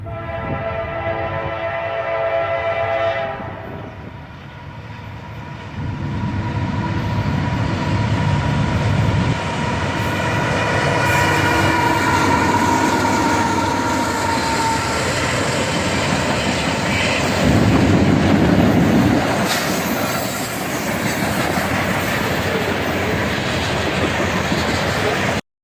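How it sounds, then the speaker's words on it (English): A CSX freight train led by seven locomotives passes nearby, diesel engines roaring with horn-like tones early on, followed by a sustained rumble and rattling of wagons on the rails, loud and steady throughout. "we have a 7-locomotive CSX train"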